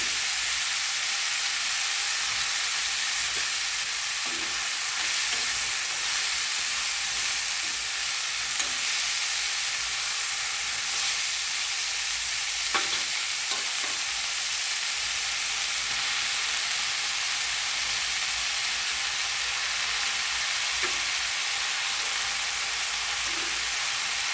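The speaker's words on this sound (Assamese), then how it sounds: "আৰু শাকখিনি মই ভালকৈ ভাজি ল'ম।" Leafy dorun greens frying in a pan of oil after garlic has browned: a steady, even sizzle and hiss that holds without pause, close and moderately loud, with faint stirring scrapes now and then.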